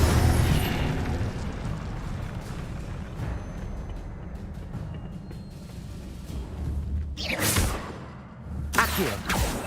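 A fire spell cast in a magic video game, a loud roaring whoosh with rumbling bursts throughout, swelling into sharper blasts toward the end.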